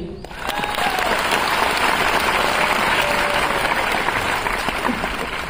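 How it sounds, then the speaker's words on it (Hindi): Steady audience applause fills a hall at an MI Lifestyle business program in Nagpur, rising quickly after a brief quiet start and holding as a dense, even wash of many hands clapping for several seconds. "अगर आप लोग सहमत हैं तो ताली बजाइए।"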